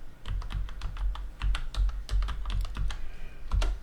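Close, brisk typing on a computer keyboard, with a steady stream of sharp key clacks and a few heavier thumps, heard alone with no talking.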